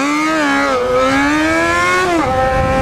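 Honda CB650 motorcycle accelerating hard, a loud close engine roar whose pitch climbs steadily, dips briefly as it shifts, then climbs again for about three seconds.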